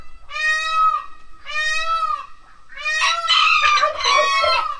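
A hen in a coop sitting on chicken eggs gives loud, close, drawn-out squawking calls, two separate cries followed by a longer, harsher run of agitated clucks.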